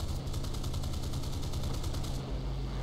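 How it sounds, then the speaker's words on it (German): Rapid automatic gunfire rattles without a break in a War Thunder air battle over a US P-51 Mustang match. The bursts come from below, sound fast and dense over a steady engine drone, and cut off near the end. "Schießen da unten noch."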